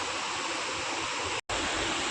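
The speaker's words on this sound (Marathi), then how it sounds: "पाणी बघा वरून धबधबे जातात" A steady, full roar of water from the Savatsada waterfall near Chiplun, pouring down from above, continuous and close, with no voices.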